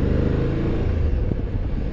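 Steady low rumble of a BMW F850 GS adventure motorcycle engine idling close by, a continuous deep throb with no talk over it.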